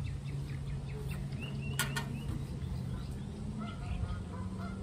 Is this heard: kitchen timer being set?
no